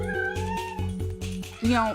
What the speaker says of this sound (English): I heard the sickest sounding meow